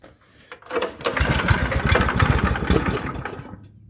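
A small engine on choke for a high-speed super sprocket build catches after a few faint clicks, then revs up into a loud, rough, close running buzz for about three seconds before cutting off.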